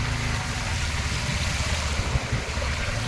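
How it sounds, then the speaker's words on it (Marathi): Floodwater of the Narangi river spilling over a road at dawn, a broad continuous rush and churn of moving water with low rumbling, steady and fairly loud with no voices. "प्रचंड प्रमाणात रस्त्यावर पाणी भरलं आहे"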